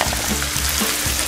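Egg-coated rice fries in a wok over maximum heat, a loud continuous hiss and crackle with a few rhythmic tossing or scraping pulses, close and with no voices.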